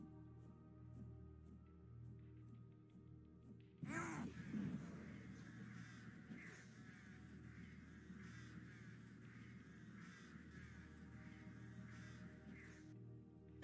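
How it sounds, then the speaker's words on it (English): A swarm of summoned flying birds attacking a single target in the mobile game The Vampire Legacies 2: a sudden burst of cawing, crow-like calls that repeats steadily over a low, constant game music bed. "Summon flying birds to attack a single target."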